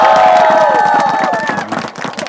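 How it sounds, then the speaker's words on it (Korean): A baseball crowd at a Nexen versus Samsung game cheers and claps for players, with a sustained shout rising over rapid clapping that thins out after a couple of seconds. "잘생겼다고 생각하시면은 큰 박수 한번 보내주시고"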